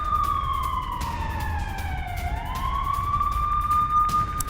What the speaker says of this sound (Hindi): एक बार फिर से सायरन सुनाई दिया है।